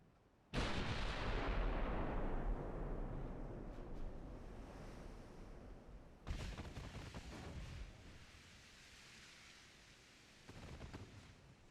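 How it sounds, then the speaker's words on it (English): Heavy naval guns fire in the warship game Ultimate Admiral: Dreadnoughts. Three loud booms come several seconds apart, each trailing into a long rumbling roar like surf, with no speech. "It's like a machine gun though when our guns do fire."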